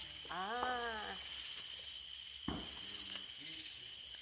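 Tree frogs calling at night outdoors: a steady, dense, high chorus of trilling hums throughout, with a person's voice speaking over it in the foreground.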